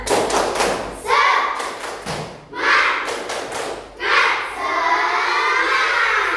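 A school class performs the tepuk semangat clapping chant, several rhythmic bursts of group clapping with thumps and children's chanting voices, loud and close, separated by short pauses.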